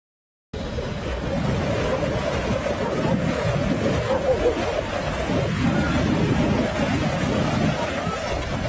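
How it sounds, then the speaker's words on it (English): Heavy rain pours steadily in a mountain landslide area, a dense, even wash of noise that begins abruptly and continues without a break, with narration over it. "Above, the rain continues to pour."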